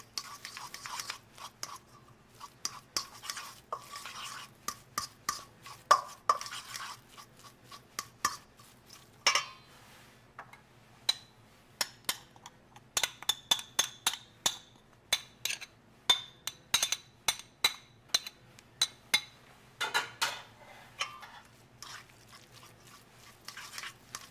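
A fork mashing stuffed-egg filling in a dish, giving scattered light clinks and scrapes against the dish, close and faint, in irregular bursts over a long stretch.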